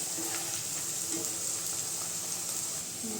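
Bitter gourd kabab frying in hot oil, a steady close crackling sizzle with bright hiss and occasional small pops, continuous and alone.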